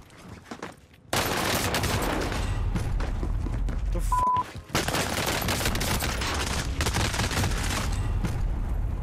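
Rapid bursts of Armaguerra 43 submachine-gun fire in Call of Duty Rebirth Reinforced, loud and close, running almost continuously for several seconds with one brief pause midway and no talk over it.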